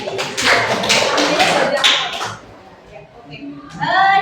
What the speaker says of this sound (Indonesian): tepuk tangan dulu buat Mbak